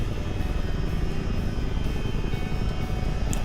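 Chinook helicopter droning in flight in Microsoft Flight Simulator 2020, a close, steady, dense rotor and engine roar with no break and no voices.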